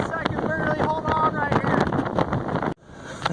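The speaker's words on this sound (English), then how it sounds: "the wind is whipping by like a bazillion 10 mile an hour" Strong gusting wind buffeting a phone microphone on a roof during a windstorm, a loud roaring rumble with rapid thumps, a person talking over it, before cutting abruptly to quieter background.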